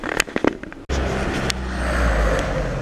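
A Honda Sport car passing on a rainy New York street, starting with a few sharp clicks and knocks, then a steady broadband whoosh of tires and engine building as it goes by.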